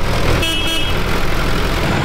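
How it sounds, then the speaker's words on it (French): A small tractor horn honks once in a short, bright, buzzy toot over a loud, steady engine rumble, close by with no talking. "Qui aura le meilleur klaxon?"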